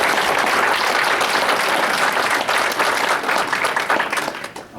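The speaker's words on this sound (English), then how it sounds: "I was going to say give a round of applause to our board of directors" A banquet audience of a ministry gives sustained applause, thick continuous clapping that thins out and tapers near the end.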